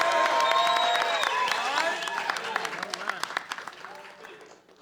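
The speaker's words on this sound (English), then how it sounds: "Let's give her a round of applause." Applause from a gala audience at a hip-hop museum induction event, clapping mixed with cheering and raised voices, fading and thinning toward the end as individual claps become audible.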